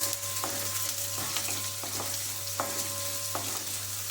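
Cumin seeds and cashew pieces roasting in hot oil for sabudana khichdi, a steady close sizzle with a few brief clinks and scrapes of a stirring spoon against the pan.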